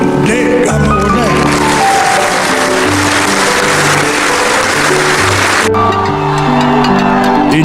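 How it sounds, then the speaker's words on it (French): A frenzied crowd of Cameroonians celebrates the Indomitable Lions in the streets of Yaoundé, with loud, sustained cheering and clapping mixed with music and honking, and voices talking over it throughout. "Une foule en délire"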